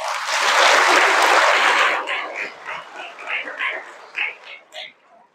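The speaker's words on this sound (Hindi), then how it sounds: "ताली तो बजाओ।" A religious class audience in Jagdalpur, Chhattisgarh, bursts into clapping for about two seconds, loud and dense, then fades as a speaker's voice resumes in short phrases.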